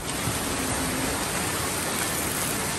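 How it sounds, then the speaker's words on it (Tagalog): Heavy typhoon rain pours down as a dense, even hiss, loud and unbroken for a few seconds with no voices. "Ayun na, lumakas na po yung ulan."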